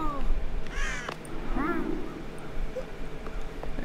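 A crow in the video game Child of Light gives a few slurred, wobbly caws, one early and another about midway, over a steady background with faint speech.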